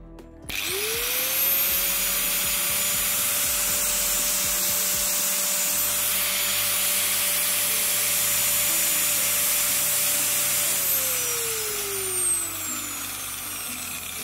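Angle grinder powered by an EcoFlow DELTA 2 portable power station, spinning up to a steady high whine that holds for about ten seconds, then winds down, close and loud with no talking.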